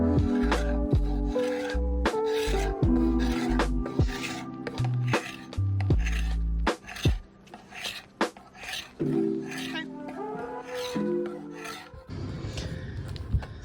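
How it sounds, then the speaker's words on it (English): A Bahco scraper rasps across a wooden kitchen table in repeated strokes, close and fairly loud, with an uneven rhythm and short pauses between passes. "I'm going to start by scraping this with a Baco scraper"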